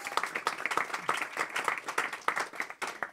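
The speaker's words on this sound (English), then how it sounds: "maybe we hold the applause until the end" At a talk launching the book Designing Cities for All, an indoor audience claps in uneven, scattered applause, individual hand claps standing out at moderate loudness without any talking.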